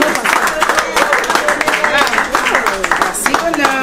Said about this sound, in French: Est-ce qu'on peut encourager bonheur avec nos acclamations?